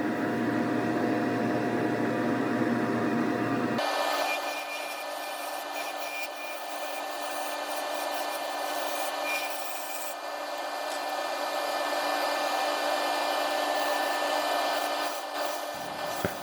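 Padauk bowl spinning on a wood lathe while push and pull cuts and shear scraping shape the round-over: a continuous loud, hissing scrape of tool on wood that changes tone abruptly partway through, steady throughout.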